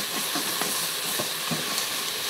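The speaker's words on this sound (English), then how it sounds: "adding the ginger and garlic. And we're just going to cook this for about 30 seconds" Ginger and garlic sauté in a pot on saute mode, a continuous bright hiss of sizzling with a few soft stirring clicks, close and even throughout.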